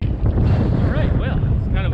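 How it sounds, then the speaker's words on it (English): Cold wind blows outdoors by the Potomac River, buffeting the microphone in loud, rumbling gusts throughout, with a few faint tonal sounds drifting through. "It's cold and windy"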